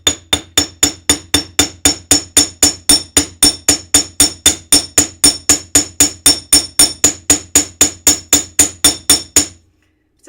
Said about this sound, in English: Pull out my bench block, and we're going to hammer both ends